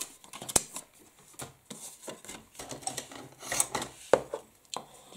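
Paper card for a Christmas gift bag being creased with a bone folder on a craft table, giving soft close rubbing and scraping strokes in an irregular rhythm, with a few sharper taps, and no talking.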